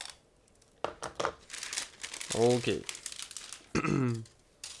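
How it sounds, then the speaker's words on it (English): Someone cuts open the sealed plastic bag of a Zvezda 1/35 GRAD BM-21 model kit, making sharp, uneven crinkles and rustles in short bursts, with a brief spoken word and a couple of vocal sounds in between. "So let's cut through, because this is a sealed plastic bag."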